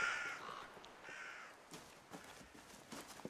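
Crows cawing in the video game REKA, a few harsh calls up front followed by scattered softer bird sounds and light rustling, fairly faint overall.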